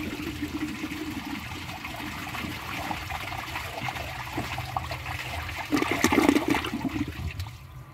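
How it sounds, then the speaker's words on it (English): Weak flush from a 1978 Kohler Wellworth toilet in Coppertone, a steady close rush of water and trickling that swells briefly near the end before tapering off, with no talking. "This has an extremely weak flush."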